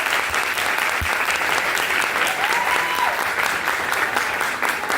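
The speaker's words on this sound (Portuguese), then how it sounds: "palmas." Audience at a Brazilian organizational-culture round-table gathering applauds steadily, a loud, continuous wash of many hands clapping for the full five seconds, close and even throughout.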